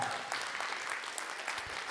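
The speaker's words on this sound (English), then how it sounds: "Somebody clap your hands like you're catching this today." A church congregation claps hands in a dense, steady burst of applause, moderately distant and filling the room without voices over it.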